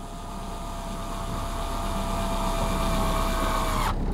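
A screwdriver with a Torx bit turns a screw into the foam of a Rhino Sideplaner SL planer board, giving a steady, close whirring drone that cuts off abruptly at the end.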